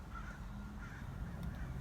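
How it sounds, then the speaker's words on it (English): Crows caw just before sunrise on the west coast around a parked car, with several harsh calls repeating faintly over a low, rumbling background. "I'm parked in a murder of crows"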